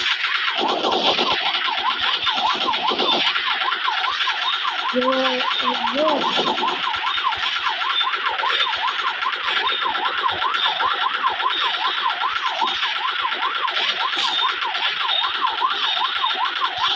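A police siren wails steadily over several seconds, its rising and falling tone cycling continuously, loud and close, with brief other noises early on and no talk over it.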